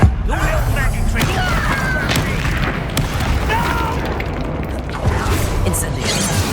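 Confringo blasting spell in the video game Hogwarts Legacy, a booming explosive burst followed by rumbling, crackling impact noise that lingers under continuous battle effects.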